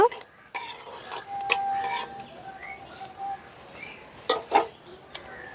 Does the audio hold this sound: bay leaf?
yes